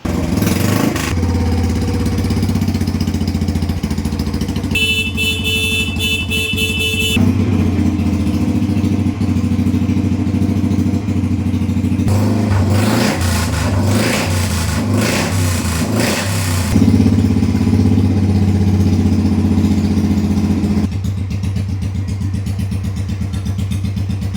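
An old Royal Enfield Bullet motorcycle engine revs loudly and close by, its steady single-cylinder thump rising and falling through repeated throttle blips, with mechanical clatter and no talk.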